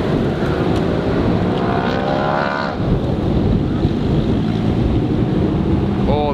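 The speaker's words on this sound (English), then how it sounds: "Oh, that wind is so gnarly." Strong wind buffets the microphone at an outdoor hypercar and supercar event, a steady loud broadband rumble with engine noise underneath, continuous throughout.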